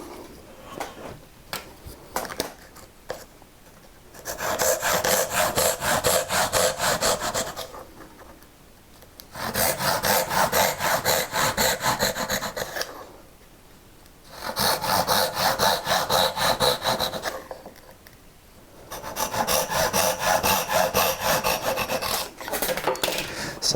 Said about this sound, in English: the cutting of the tails is exactly the same as with through dovetails.